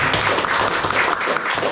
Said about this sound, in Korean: 우리 다 같이 박수 한번 치겠습니다.